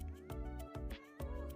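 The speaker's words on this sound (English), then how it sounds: "you and all this meowing" A cat lets out a few short, faint meows in quick succession, rising and falling in pitch, heard close with no talking.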